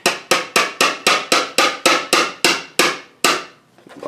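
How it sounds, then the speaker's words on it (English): A steady series of about a dozen sharp hammer taps driving pins into a mahogany tool box, close and evenly paced, ending with a brief pause. "so all I'm going to do is just tap them in."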